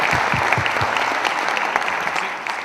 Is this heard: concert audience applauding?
yes